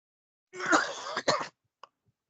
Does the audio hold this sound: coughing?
yes